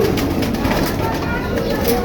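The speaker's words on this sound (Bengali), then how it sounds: "এখানে মাসাল্লাহ কিছু কবুতর আছে" Pigeons coo softly and steadily in the background, a low continuous murmur with voices talking over it.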